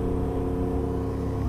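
A tuned Honda Start 239cc motorcycle engine revs steadily and loudly up close, a continuous mid-pitched drone with strong harmonics and no breaks.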